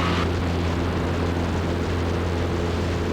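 A Zenith CH 750 Cruzer light sport kit airplane in flight shortly after takeoff, heard from inside as a loud, steady engine and propeller drone with constant wind roar and no talking.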